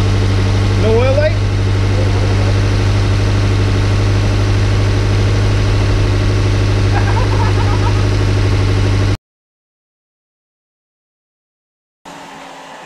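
A car engine idles with a steady low rumble for several seconds, a voice briefly over it, then it cuts out abruptly.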